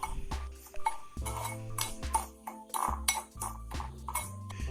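Puttu flour mixed with cumin and salt in a bowl, with close clinking and scraping of a spoon against the dish in quick irregular strokes, no speech.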